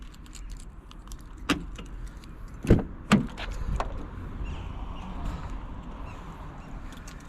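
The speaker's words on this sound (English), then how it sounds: "You get the car opened." Car door handled with keys: a brief jingle, then two solid thumps of the door close by, in a quiet setting.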